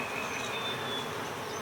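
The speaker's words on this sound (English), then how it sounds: "See those bees bumping my hand?" Honeybees buzz close around a hand during a hive inspection, a steady, dense insect drone with thin whining tones weaving through it, continuous and fairly loud with no talk.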